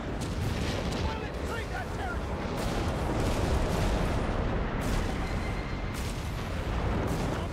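Enemy gunfire in a Company of Heroes 3 4v4 battle with British forces: continuous heavy shooting and explosive rumble fill the whole stretch, a loud sustained barrage with a voice speaking briefly over it.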